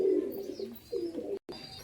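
Caged pigeons cooing up close at feeding, low soft throaty calls in a couple of short phrases, with a brief gap near the end.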